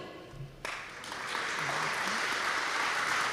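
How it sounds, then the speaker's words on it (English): Applause from an audience at an AI conference opening ceremony starts abruptly and swells into steady, sustained clapping filling a large hall. "please welcome them with your applause"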